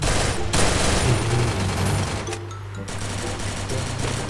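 Rapid bursts of gunfire from the Free Fire video game in a 4v4 ranked match, a steady stream of shots filling the whole clip at fairly loud level with no voices.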